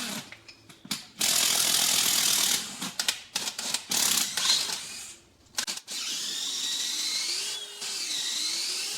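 A mechanical ratchet on a yard scraper clicks in rapid bursts, close and fairly loud, followed by a steadier whirring rattle.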